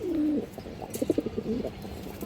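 Domestic pigeons coo nearby in a short series of soft, throaty, bubbling calls over a low background murmur.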